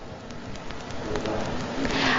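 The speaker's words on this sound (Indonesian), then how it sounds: "Memang saat ini cuaca tidak terlalu mendukung pemirsa karena terjadi hujan" Rain falling outdoors at Bogor Palace forms a soft, steady hiss with scattered patter and faint drips, growing slightly louder toward the end.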